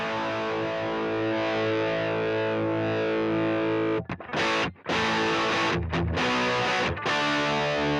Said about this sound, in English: certainly not a bad distortion sound